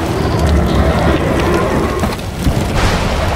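Thunder rumbles and rain pours during a storm giants' battle in the Lego The Hobbit video game, a dense, loud wash of low rolling booms and hissing rainfall with no voices.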